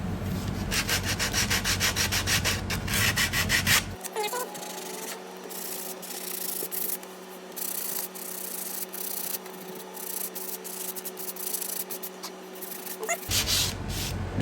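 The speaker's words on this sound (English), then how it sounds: "I can take some sandpaper and sand it" Sandpaper rubs back and forth over a wooden brace on an acoustic guitar top, a close, steady scratchy rasp in rhythmic strokes that continues throughout with no talk.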